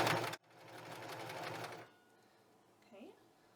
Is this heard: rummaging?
no